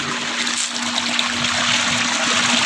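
Water from a small village tubewell gushes steadily across farm fields, a constant near rushing flow that never pauses.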